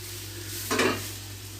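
Cut onions hit hot oil in a pan with a sudden burst of sizzling and a brief stir, then a steady frying hiss continues close by with no talk.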